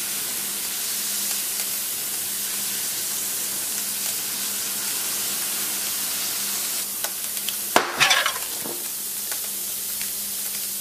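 Egg popping and crackling while heated during a smartphone back case project made from egg, a steady sizzling hiss throughout with a brief cluster of sharper pops and crackles near the end.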